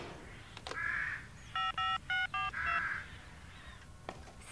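A telephone dialed in a children's animated building-yard scene, four short electronic keypad tones in quick succession, bracketed by soft chirping sounds and light clicks.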